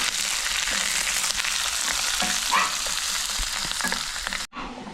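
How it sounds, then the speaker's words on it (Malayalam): Chopped garlic and ginger fry hard in hot oil in a pan with a steady, dense sizzle. A spoon stirs through it now and then, and the sound cuts off abruptly at the end. "വെളുത്തുള്ളിയും കിടങ്ങിടാം ഇതിൻ്റെ പച്ച മണമൊക്കെ ഒന്ന് മാറി ഒന്ന് ചെറിയ ബ്രൗൺ കളറാവുന്നത് വരെ നമുക്കൊന്ന് നന്നായി ഇളക്കി കൊടുക്കാം"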